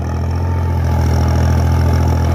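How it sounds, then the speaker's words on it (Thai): An Iseki TL2007 tractor engine runs at a steady idle while planting sugarcane in a field, a loud, even low rumble that continues alone throughout. "นี่เป็นรถไถ อิสกีนะครับ TL 2007"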